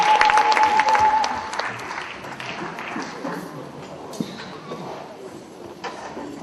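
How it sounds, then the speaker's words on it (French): Church congregation applauding loudly during a worship service, a dense, sustained burst of clapping that stays strong throughout, with a brief tone near the start and a few faint voices mixed in. "Acclamez très fort pour la gloire du Seigneur"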